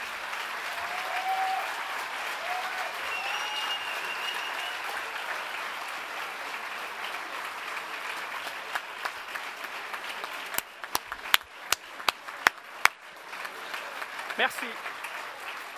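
At a school graduation ceremony, a seated audience gives sustained applause to standing staff, a soft steady patter at some distance, with a few sharper nearby claps near the end and brief talk.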